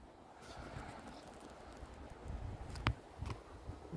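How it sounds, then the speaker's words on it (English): Faint bird calls chirp now and then over a steady outdoor hush, with a couple of short, sharper calls near the end. "Hear the birds."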